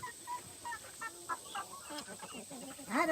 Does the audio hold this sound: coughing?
no